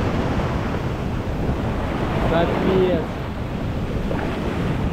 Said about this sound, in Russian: Ой, смотрите, какая волна.